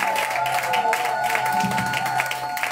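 A church congregation at a French-language prayer marathon claps and cheers loudly for the King of Kings, a steady mass of applause with voices and a sustained musical tone underneath.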